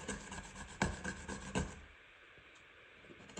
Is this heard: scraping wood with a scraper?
yes